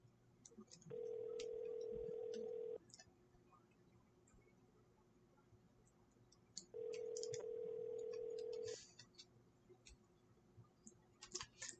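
A phone call rings out after the call button is pressed, two long, steady ringback tones about four seconds apart, fairly quiet, with faint clicks and taps scattered between them.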